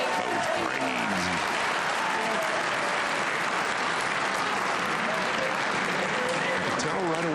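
Crowd at the 2024 US Open Pool Championship quarter final erupts in loud, sustained cheering and applause after a golden break, a dense roar filling the whole stretch with a commentator's voice faintly underneath.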